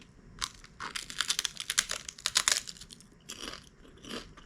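Close, crisp crunching of a crunchy snack being chewed, rapid bursts of bites and chews that pause briefly, then resume more softly.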